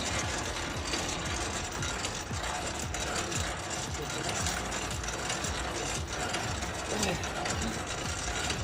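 A continuous grinding, clattering mechanical whir, steady and fairly loud throughout, like a stiff hand crank on a truck being turned with effort in winter.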